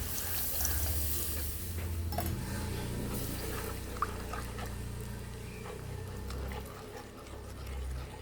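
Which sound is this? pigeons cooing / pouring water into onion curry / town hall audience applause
pouring water into onion curry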